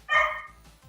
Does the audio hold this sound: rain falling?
no